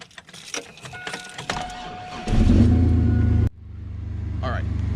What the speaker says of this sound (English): I have to come out here and start this truck